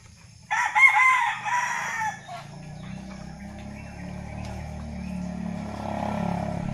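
A rooster crows loudly and close by for about two seconds near the start, then chickens cluck softly over a low, steady background rumble.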